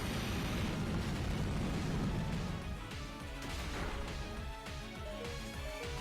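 Explosion move in the Pokémon Omega Ruby/Alpha Sapphire battle game, a loud blasting boom that rumbles on, followed by crashing, crackling debris-like effects fading over several seconds.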